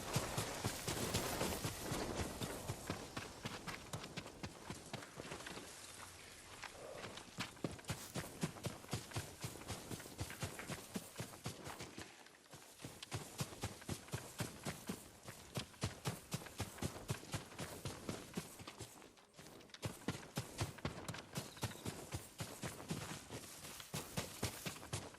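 Fast, regular hoofbeats of a running horse drum on and on with barely a pause, fairly faint and steady throughout, with no talking.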